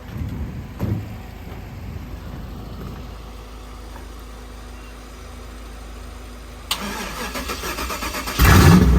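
A 1995 Camaro Z28 sits under a low, steady background hum, then its starter cranks briefly and the engine catches and fires up loudly near the end.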